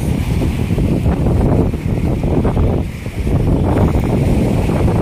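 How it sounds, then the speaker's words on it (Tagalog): Strong wind at the Manila Bay shore buffeting the microphone in a steady, heavy roar, easing briefly before gusting back up, with surf-like rushing underneath. "yung hangin na malakas"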